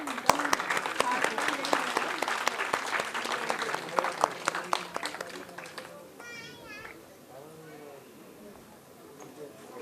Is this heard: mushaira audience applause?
yes